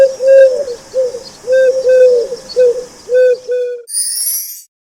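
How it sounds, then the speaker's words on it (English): A pigeon coos close and loud in a soft, rounded rhythm of repeated low calls, then the cooing stops and a brief bright high-pitched sound takes over at the very end. "pigeon"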